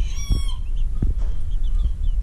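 Old English Bantam chickens, including a small black rooster, cluck in a few short, close calls over a steady low background hum, with a faint higher tone fading early on.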